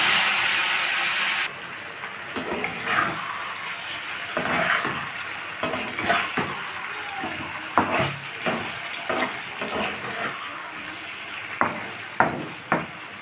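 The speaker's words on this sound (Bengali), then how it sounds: "এবার সবজিটাকে ঢেলে দেবো।" Vegetables with green chillies and five-spice tipped into hot oil in a pressure cooker: a loud sizzling hiss that settles into steady frying, broken by scraping stirs, close up with no talk.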